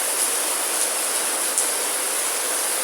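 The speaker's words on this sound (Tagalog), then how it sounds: "talagang malakas ang ulan" Heavy morning rain pours down steadily in Singapore, with running water rushing alongside as a dense, continuous hiss that stays loud and even throughout, with no voices.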